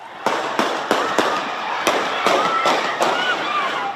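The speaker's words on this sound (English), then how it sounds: "gunshots, chaos, people running for their lives" A string of sharp cracking gunshots, about eight in irregular succession, echoing outdoors over a crowd's murmur after an NBA championship win.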